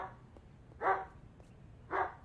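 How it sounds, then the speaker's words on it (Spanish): A dog in the video game Project Zomboid barks twice, two short separated woofs at a moderate distance over a low quiet background. "Un puto perro."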